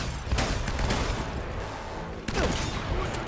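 Gunfire in the video game Uncharted 1, a rapid burst of shots and a second volley after a short pause, loud and sharp against a busy game background, no talking.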